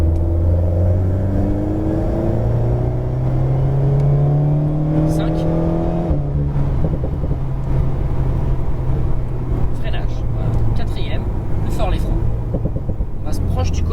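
An Alpine sports car on a track brakes into a corner and then accelerates out, its engine note sliding down and then climbing steadily, loud and close, with someone talking over it throughout.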